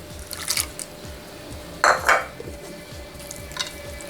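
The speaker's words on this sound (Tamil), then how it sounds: "ஆட் பண்ணி நல்லா மிக்ஸ் பண்ணிக்கோங்க." Cashew nuts fried golden in ghee are stirred into pongal, a close soft scraping and mixing with a few louder clinks of a spoon against the pot.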